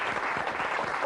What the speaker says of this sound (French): applaudissements pour Laurent